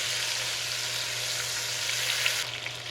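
Chunks of beef brown in a hot pan for beef bourguignon, giving off a steady, loud, close sizzle that holds evenly throughout and eases slightly near the end, with no voices.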